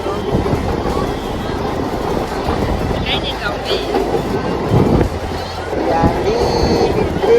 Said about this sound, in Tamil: தரமா நம்ம ட்ரெயின்ல போயிட்டு இருக்கோம்.